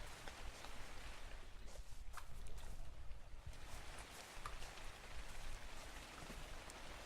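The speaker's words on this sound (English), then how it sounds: "see how it's raining?" Soft, steady rain in the video game ARK patters quietly with scattered droplets ticking, a faint wash of falling water with no voices.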